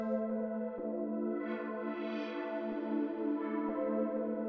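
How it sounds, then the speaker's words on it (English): A sustained tonal sound is processed through reverb and delay from the Excite Audio Motion Dimension plugin, its notes smearing into a spacious, echoing wash with soft repeats trailing off at moderate level. "I still get like the reverb and the delay effects."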